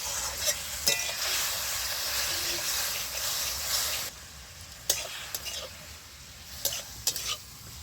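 Tomato drops into a hot mustard-oil tempering and sizzles loudly and steadily, then quiets halfway through, leaving softer frying with scattered clicks of stirring.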